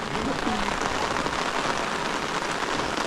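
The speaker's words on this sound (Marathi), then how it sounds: "पाऊस पण आलेला आहे" Steady rain falls on a farm planted with turmeric and ginger, a dense close patter on surfaces that runs evenly without a break.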